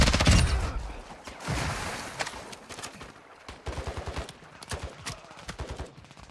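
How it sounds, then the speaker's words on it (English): Gunfire in a Call of Duty DMZ match: a loud opening blast, then bursts of rapid automatic shots and scattered single cracks, some nearer and some farther off, continuing steadily through the stretch, no talking. "Taking effective fire!"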